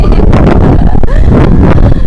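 Strong typhoon wind at Nasugbu, Batangas, roaring loud and close against the microphone as a continuous buffeting rumble, with a voice speaking briefly over it.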